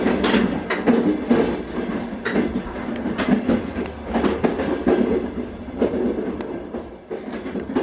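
Freight train rolling along rails, a steady loud rumble with repeated clicking wheel beats running the whole way through.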